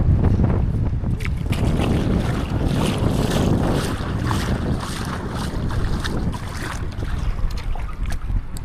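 Strong wind gusting at a Philippine shore where fishing boats are kept ashore, too rough to go out; a loud, continuous low roar and buffeting rumble fills the whole stretch without letup.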